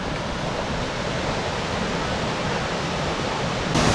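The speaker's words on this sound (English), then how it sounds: "So we took a side trail that has a waterfall up ahead" Steady broadband roar of a waterfall on a side trail off the Appalachian Trail, continuous and fairly loud, rising slightly at the end as the walker draws nearer.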